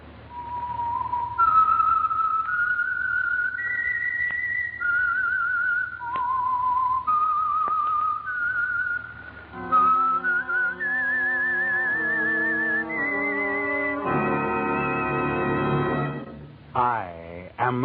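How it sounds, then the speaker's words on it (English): A lone whistler carries a slow, eerie melody of long sustained notes, the theme of the old-time radio drama The Whistler, then a brighter passage with musical backing joins before a sharp ending. "That whistle is your signal for the Signal Oil program,"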